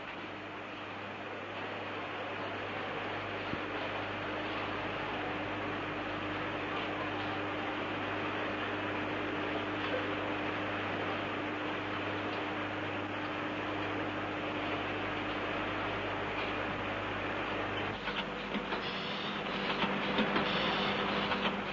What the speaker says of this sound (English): a machine has been developed which not only automatically cuts and shapes the heaters, but also carries out the operations of coating and glowing